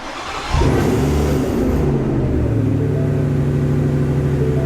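A Ford Raptor R truck engine with a Whipple supercharger cranks on a cold start and catches after a brief pause, roaring loudly to a high idle, then settling into a steady, deep rumbling drone.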